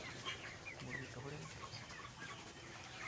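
A flock of 32-day-old broiler chickens on a farm clucks and chirps softly in a steady, faint murmur. Scattered higher peeps rise over a low background hum.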